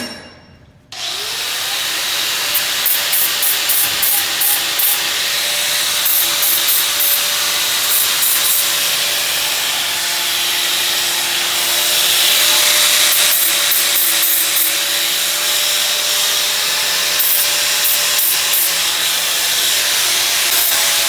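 Steady, close abrasive rubbing of a beaver-chewed wooden walking stick as its knots and branch stubs are smoothed. The sound starts after a brief pause and continues unbroken and fairly loud, with a faint tool-like whir underneath.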